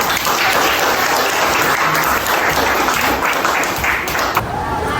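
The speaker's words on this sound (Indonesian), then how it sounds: "Silakan beri tepuk tangan." Applause from a seminar audience after a group presentation, a dense, steady clapping that stays loud and even for several seconds before tapering slightly near the end.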